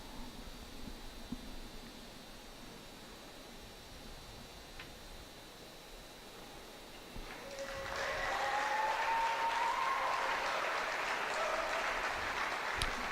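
Spectators at a horse show jumping competition break into applause for a horse and its rider, a broad wash of clapping that swells in and holds steady after a quiet arena murmur.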